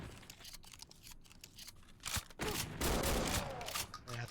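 Gunfire in the Doom mod Resurrection of Dawn, rapid bursts of shots with clattering mechanical sounds, growing louder and denser in the second half.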